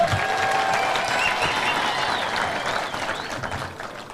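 An audience applauds Kimani Ichung'wah at a leaders' gathering in Kiambu County, producing a dense burst of clapping that holds steady, then slowly thins out toward the end.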